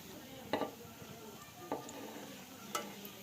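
Onions frying in oil while being lifted out one by one, a soft steady sizzle with occasional clinks of utensil against pan, fairly quiet with faint background activity.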